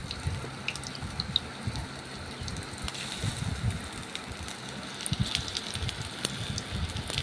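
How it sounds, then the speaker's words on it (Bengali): Flattened rice (chira) pakoras deep-fry in hot oil, a continuous crackling bubble with scattered pops, moderately loud and close. "ভেজে নিচ্ছি এখন চিড়ের পকোড়া"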